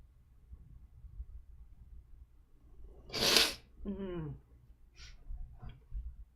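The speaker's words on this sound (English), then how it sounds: "Oh, I need to sneeze." A single sharp sneeze bursts out in a quiet room, followed by a short voiced exhale and a few faint sounds.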